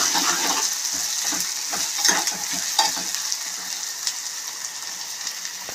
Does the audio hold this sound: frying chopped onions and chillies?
yes